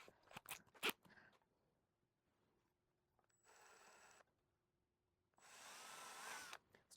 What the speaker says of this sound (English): Let's grab some bits and let's pre-drill.